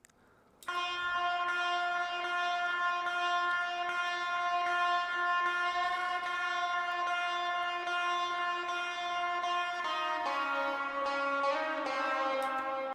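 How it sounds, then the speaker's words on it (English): Electric guitar drone sample built from sustained tones with a steady harmonic stack, holding one pitch before shifting lower near the end, loud and continuous with no voices. "I also added another guitar kind of drone that sounds like this"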